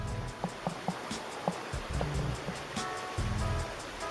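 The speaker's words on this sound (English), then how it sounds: "You can already hear the water." Water flows at Cascade Springs as a continuous rushing wash. Irregular knocks and thumps sound close by over it.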